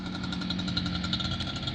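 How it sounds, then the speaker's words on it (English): A small leaf blower engine runs steadily in a garage, a constant buzzing drone with a rapid pulsing texture, close and fairly loud with no talk over it. "He's turning off the blower."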